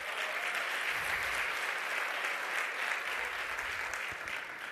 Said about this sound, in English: give me a round of applause if you've been enjoying the talks tonight